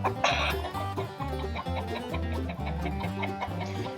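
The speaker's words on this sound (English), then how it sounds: "Shut up, chicken." Chicken clucking repeatedly in a rhythmic, close-up series of loud clucks with no talking.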